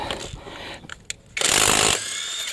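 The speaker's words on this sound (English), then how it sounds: "we'll go ahead and break this wheel loose with this AutoJare tool" An AutoJare cordless impact tool breaking a vehicle wheel loose: short rattling bursts, then a loud sustained whirring-hammering run of about half a second, close up with no talk.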